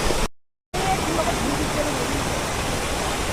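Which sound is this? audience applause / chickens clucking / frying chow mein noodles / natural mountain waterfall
natural mountain waterfall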